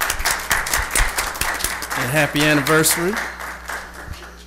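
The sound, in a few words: round of applause for the city attorney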